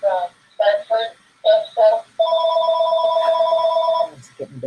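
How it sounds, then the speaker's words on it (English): A telephone rings loudly and close by, first in several short bursts and then in one long sustained electronic tone before cutting off, with no talk over it. "The phone is ringing."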